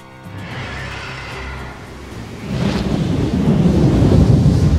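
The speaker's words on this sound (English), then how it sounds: "A live hurricane! That thing's like half bird, half storm, half airship." A living hurricane creature in Final Fantasy XV, part bird, part storm and part airship, produces a loud roaring, rumbling storm sound like thunder and wind that swells and grows heavier partway through, with no talking.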